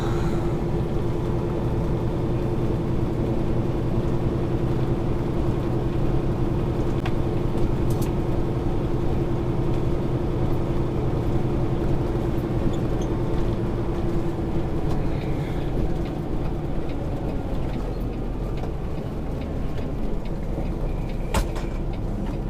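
Delivery truck pulling away in first gear with a slipping, troublesome clutch, its loud steady engine drone and low rumble continuous throughout, with faint rattles and clicks on top.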